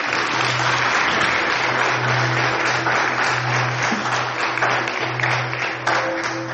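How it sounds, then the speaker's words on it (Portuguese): Church congregation applauding together at a worship service, steady dense clapping filling the room throughout, with a low sustained organ or keyboard tone underneath. "Vamos aplaudir poderosamente."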